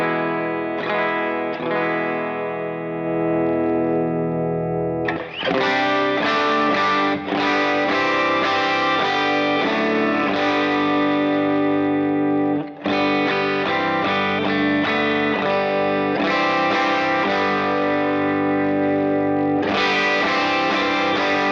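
An electric guitar through a distorted amp rings out big, full strummed chords, each sustaining loudly for several seconds before the next rake, with no voice over the tone.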